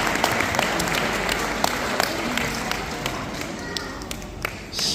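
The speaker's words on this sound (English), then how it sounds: "Give them both a big round of applause." A crowd at a sea lion show applauds loudly and continuously, claps dense and close, with some voices mixed into the clapping.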